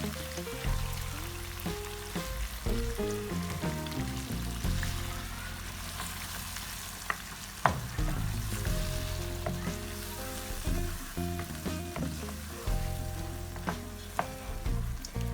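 Yogurt goes into sizzling chicken in a pan, a continuous crackling fry punctuated by clinks and stirring knocks, with one sharp clatter midway.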